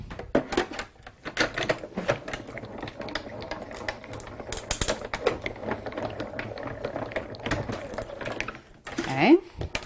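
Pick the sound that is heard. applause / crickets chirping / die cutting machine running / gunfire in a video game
die cutting machine running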